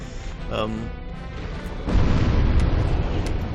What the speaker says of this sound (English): he does his butt slam